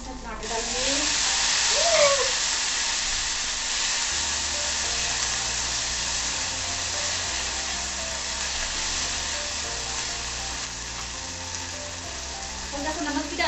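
Tomatoes frying in a pan for a bamboo shoot curry, a loud, steady hiss with occasional stirring scrapes, holding evenly throughout, with a brief voice near the start.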